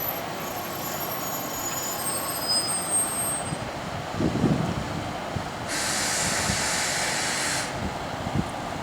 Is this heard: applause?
no